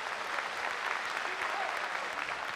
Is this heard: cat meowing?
no